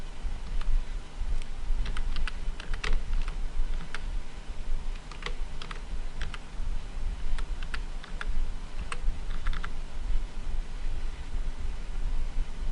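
Light, scattered typing on a computer keyboard while a survey form is filled in, with irregular soft key clicks over a steady low hum of room noise.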